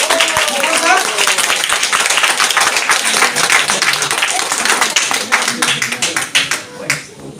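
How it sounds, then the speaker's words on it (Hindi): Loud, dense applause from an audience at a rank achiever celebration, with steady clapping that fills the whole stretch before thinning slightly near the end, and voices mixed in. "सर के लिए एक बार जोरदार तालियां होनी चाहिए"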